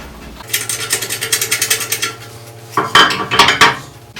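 A metal fill fitting is attached to an SCBA air bottle at a filling station, giving a rapid run of close, loud ratcheting clicks, a brief pause, then a second burst of sharper metallic clicks.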